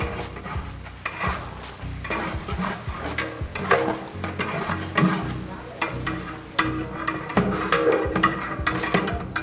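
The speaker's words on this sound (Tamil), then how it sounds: "இப்போ மட்டனுக்கு வந்து ஆயில் சூடாகிடுச்சு, வெங்காயம் சேர்க்க போகிறேன்" Three kilos of onions frying in hot oil in a large pot for traditional Ambur mutton biryani at a long-running hotel kitchen, a steady loud sizzle with stirring and clattering throughout.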